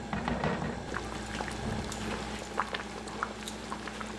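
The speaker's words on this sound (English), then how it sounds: "and then we're going to let it simmer." Beef rendang curry simmering in a cooking pot, a soft close bubbling with scattered small pops and crackles over a steady low background, no voices.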